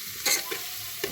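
Vegetables fry slowly in a pan for a rice pulao, with a soft steady sizzle broken by a few quick stirring scrapes, quiet and close.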